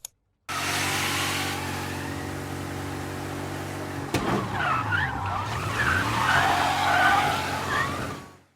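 A 1970 Ford Torino GT in the Mafia Definitive Edition video game, engine droning steadily before tires squeal into a long skid, with revving and screeching that rise and then cut off abruptly.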